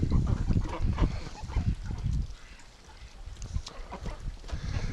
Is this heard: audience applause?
no